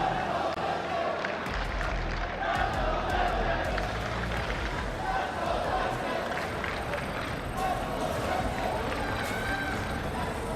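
Loud, sustained roar of an esports arena crowd cheering during an Overwatch playoff match, a dense wash of voices throughout with commentary talk on top.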